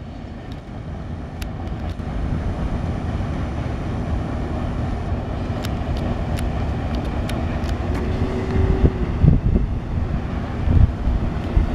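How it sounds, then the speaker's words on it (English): A steady low rumble of a passing northbound Norfolk Southern mixed freight train in Marion, Ohio, continuous and fairly loud, with wind buffeting the microphone and occasional faint metallic squeals toward the end. "That was a pretty cool mixed freight train."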